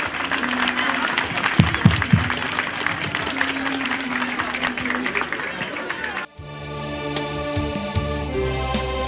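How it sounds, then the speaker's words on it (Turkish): A crowd claps steadily for several seconds, a dense patter of hands that stops abruptly, leaving quieter background sound. "Candan bir alkış istiyorum talebelerime."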